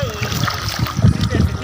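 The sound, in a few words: wading through fast-flowing cold river water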